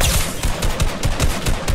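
Rapid bursts of automatic gunfire from the Fortnite video game ring out in a fast rhythmic string of sharp shots, loud and close, with no voices over them.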